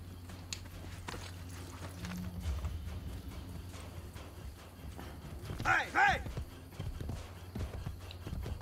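Horse hooves clip-clopping in the Assassin's Creed Brotherhood video game, a faint steady trot running under game sounds with a brief whinny-like call partway through.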